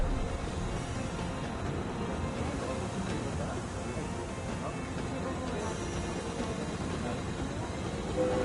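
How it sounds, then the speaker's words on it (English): A train in the Murder on the Orient Express video game runs along at a steady pace, giving a continuous rumbling, clattering roar with a faint hiss beneath a voice. "His train is a beautiful machine."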